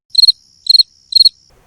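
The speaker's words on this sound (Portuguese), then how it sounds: "Respondeu meu grilo como se entendesse." A cricket chirps three times in an even rhythm, each chirp a quick bright trill of pulses, close and clear against near silence.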